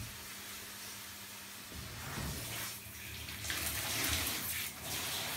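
A muddy dog is rinsed in a bath after shampooing, with water from a hose or tap splashing and pouring steadily, faint and close, swelling into louder gushes toward the end.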